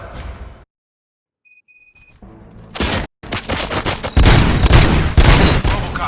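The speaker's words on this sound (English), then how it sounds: "Gunshots? What's going on?" Gunfire in the shooter game Robocop: Rogue City: after a silent gap and a few electronic tones, loud bursts of rapid shots and booming impacts build into a dense, sustained barrage.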